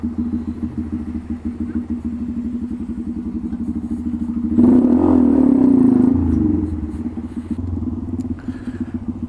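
A Honda Grom motorcycle idles and putters nearby with a steady low engine note, swelling to a louder rev and pass around the middle before settling back to idle, with light clatter and thumps.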